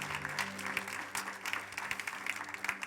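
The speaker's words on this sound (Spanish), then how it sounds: "Dele un fuerte aplauso al Señor en esta tarde." A church congregation applauds together in a steady, fairly distant wash of many hands clapping that holds for the full length without any speech over it.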